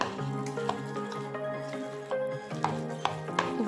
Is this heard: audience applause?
no